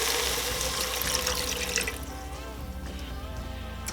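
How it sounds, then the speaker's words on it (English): Water poured into a pot of lentil sweet potato soup, a close, steady splashing stream that runs for a couple of seconds and then settles into softer trickling and bubbling. "Okay, we're going to add our water."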